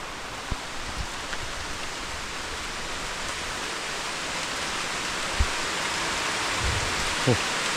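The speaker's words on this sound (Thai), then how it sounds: "นี่แต่ฝนมาแล้วเลยทุกคนเลย" Steady rain hisses evenly throughout, a broad wash of falling water with a few brief knocks and taps standing out now and then.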